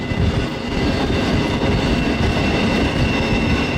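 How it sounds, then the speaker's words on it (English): A freight train of intermodal cars followed by scrap cars rolls past close by, steady rumbling and rattling of wheels with faint clicks, loud and continuous without talk. "I've never seen this train that's half intermodal and then the last half of the train or third of it is junk."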